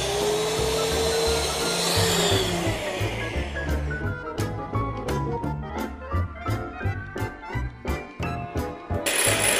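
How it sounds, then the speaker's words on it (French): An electric mixer whips egg whites with a pinch of salt for meringues, whining loudly at first, then softening into a rhythmic run of beater clatters and pulsing whirs. "mettre une petite pincée de sel et utiliser notre batteur électrique"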